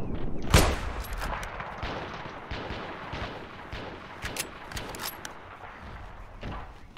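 Gunfire in the Ravenfield battle game, with one sharp loud shot near the start followed by scattered softer shots and distant battle noise.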